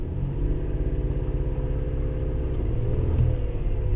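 A car engine revs with a laggy throttle, a low rumbling drone that swells slowly and rises in a late push near the end, close and alone without talk.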